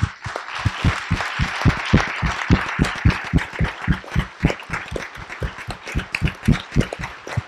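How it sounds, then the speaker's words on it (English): An audience claps for veterans at a Tennessee county commission meeting, with dense, steady applause running continuously from start to finish and a strong regular beat of close claps. "let's give them all a round of applause"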